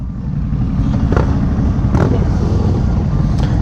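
An Aprilia RSV4 Factory motorcycle engine on a canyon ride, a loud close-up drone with a steady low rumble and a few brief sharper bursts over constant wind.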